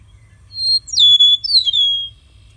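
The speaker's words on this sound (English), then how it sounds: "I love coming to listen to the lark's melancholy whistle from the surrounding fields." A lark gives a clear, melancholy whistle from surrounding fields, two sliding high notes, close and loud against a quiet low hum.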